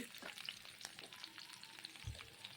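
Taro and potato with turmeric fry in a pan with little oil, making a faint, close crackling sizzle with scattered pops and one soft low knock near the end.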